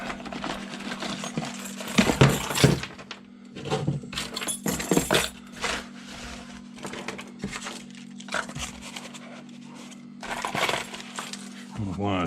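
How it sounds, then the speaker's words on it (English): A person sorts through a box of old keys, including a boat ignition key, in a shop corner. Metallic clinks and jangles come in uneven bursts over a steady low hum. "First we're going to sit here and thumb through some keys."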